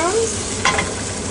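Mushrooms sizzle steadily in a hot pan, and a brief scrape and clink of stirring sounds near the middle over the constant frying hiss.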